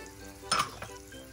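A spoon scrapes and knocks briefly in a pan, stirring tomato paste for Turkish ezogelin lentil soup, against a faint background sizzle, with a clink at one point.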